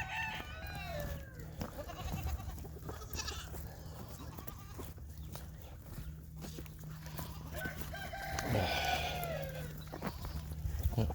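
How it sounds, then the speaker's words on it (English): Goats bleat and a chicken clucks on a farm after a storm, several calls near and far over a steady low hum, with someone talking intermittently. "Of course, the chicken's hanging out here with them."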